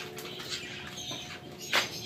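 Birds being fed at night make soft fluttering wing flaps and faint squawks, with one louder rustling burst near the end, set against a low steady background hum.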